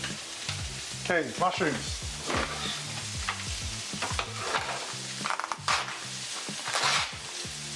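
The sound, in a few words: Scotch fillet steak sizzling in a pan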